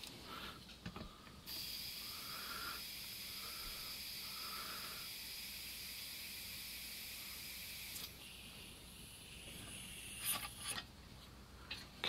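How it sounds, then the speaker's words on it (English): A Coleman CQ table lamp being pressurised lets air hiss out of its check valve, a faint steady hiss lasting several seconds, then cut off and followed by a few small mechanical clicks. "heard a little bit of air coming out of the check valve"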